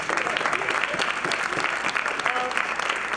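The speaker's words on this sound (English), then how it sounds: "Give yourself a strong round of applause." An audience applauds the technical crew of a live show, including the lights and technical operators, with dense, steady clapping throughout.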